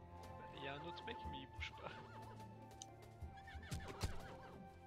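A horse in the video game Ylands whinnies and snorts repeatedly at close range, with occasional hoof clops, while people talk over it throughout.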